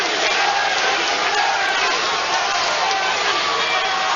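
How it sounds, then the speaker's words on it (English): A big arena crowd at a heavyweight boxing match roars steadily for Larry Holmes in the tenth round against Butterbean, a thick, continuous wash of chanting and cheering with no break. "the crowd is chanting his name"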